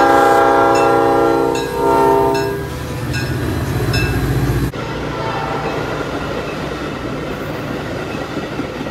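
A Nathan P5 air horn on a Metra F40PH locomotive blares loud and close with a sustained multi-tone chord, briefly breaking and resuming, then gives way to the rumbling roar of the passing train.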